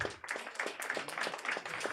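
Audience at a Ukrainian stand-up comedy show in the Cult Comedy Hall in Lviv claps for a comedian, a short, fairly quiet burst of steady mixed handclaps with no talking.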